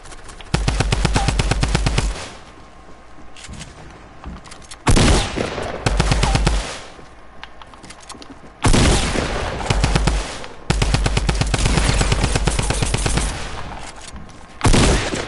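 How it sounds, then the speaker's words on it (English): A drum gun firing in a video game, loud close bursts of rapid automatic fire in several long volleys separated by brief gaps. "Got a drum gun."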